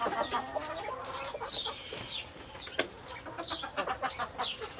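Backyard hens cluck and squawk close by, with a rooster among them. Irregular bursts of clucking and short calls come and go over a few seconds, with no talk over them.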